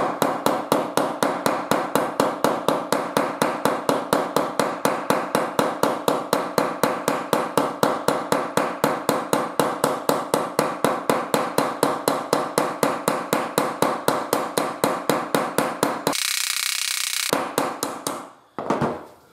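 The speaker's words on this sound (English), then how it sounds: "to rivet it over, I just hold it on there and I'll just go around it" Steel rivet on a folding camp grill is cold-riveted with rapid hammer blows, dozens of sharp, evenly spaced metallic strikes close up for about sixteen seconds, then a short scraping rustle and a few final knocks.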